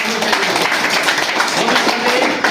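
An audience at a talk on stem cell nutrition therapy claps in a steady, dense wash of applause that lasts the whole short moment.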